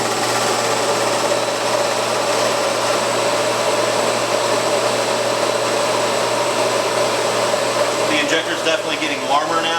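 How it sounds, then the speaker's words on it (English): A cooling fan on a diesel injector test bench hums steadily throughout, cooling calibration fluid while Bosch injectors are tested, a loud continuous whirring drone with a brief rattling shift near the end. "That noise you hear is the fan cooling the calibration fluid in the machine."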